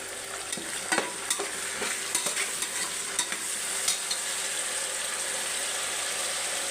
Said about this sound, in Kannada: ಒಂದು 3 ಟೊಮೊಟೊ ಕಟ್ ಮಾಡಿಬಿಟ್ಟು ಹಾಕ್ತಿದ್ದೀನಿ.